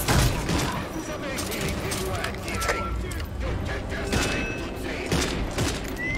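Pistol gunfire in the game Redfall comes as rapid, repeated sharp cracks under a constant layer of in-game noise, while someone talks over the shooting.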